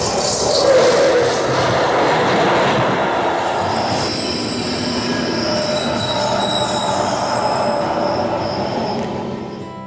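Deccan Express pulling out of Mumbai's Chhatrapati Shivaji Maharaj Terminus, wheels squealing loudly and steadily against the rails with a rumbling carriage roar beneath, high screeches sustained throughout, no talking.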